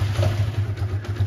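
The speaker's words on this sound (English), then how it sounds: "the bike is running now" A motorcycle engine that was being troubleshot for not starting now runs at a steady, loud idle, its low rhythmic pulse close by with no talk over it.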